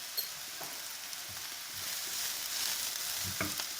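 Chopped onions and grated carrots sizzle and fry steadily in a pan, a close, continuous crackle that swells slightly partway through, with no talking.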